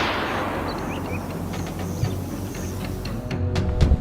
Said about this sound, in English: A single, clean shot rang out.